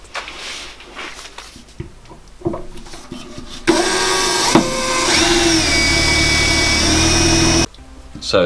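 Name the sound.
drilling out spot welds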